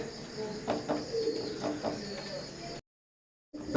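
Teddy pigeons of an imported KTM Teddy bloodline coo in a loft, a few soft low throaty calls repeating over steady background hiss, broken by a brief dropout before the sound resumes.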